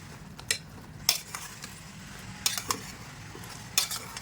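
Chicken stir-fried in a pan for a cheesy starter, with a soft low sizzle under sharp metallic clinks of a spoon against the pan at irregular intervals, close and without speech.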